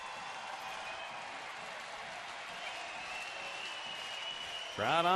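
A big afternoon ballpark crowd of about 21,000, Minnesota at Cleveland, keeps up a steady roar as fans stand and cheer, with a voice cutting in briefly at the very end.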